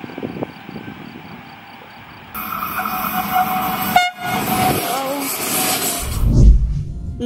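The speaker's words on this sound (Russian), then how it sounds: "по пути решив заснять несколько проезжающих мимо поездов" A train rumbles past nearby in Switzerland, loud and steady, with screeching wheels and a blast of its horn near the end.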